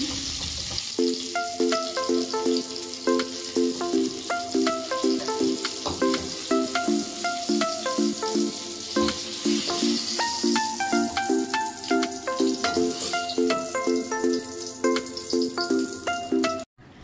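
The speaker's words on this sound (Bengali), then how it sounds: "বাকি তেলটা যে ছিল, তো ওর মধ্যে আমি জিরা দিয়ে দিয়েছি আর পেঁয়াজ কুচি দিয়ে দিয়েছি" Cumin seeds and chopped onion sizzle steadily in leftover hot oil from frying eggplant for doi begun. The crackling hiss runs continuously at close range beneath background music.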